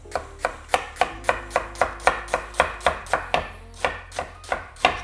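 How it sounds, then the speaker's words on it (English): Knife chopping an onion on a cutting board, cut into moon-shaped strips, with about eighteen crisp, evenly spaced chops in a steady rhythm, close and clear, with no talk. "I wanna start at a bit of an angle and work my way over the onion in a moon shape"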